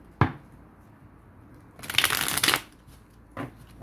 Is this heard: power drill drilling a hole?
no